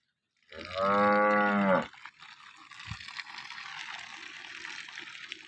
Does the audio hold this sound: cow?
yes